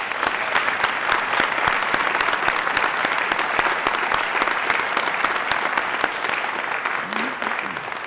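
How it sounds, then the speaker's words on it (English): A seated audience at a Veterans Day ceremony at a harbor claps steadily and warmly, a dense, even round of applause that tapers slightly near the end. "Another round of applause for Jim Claypool."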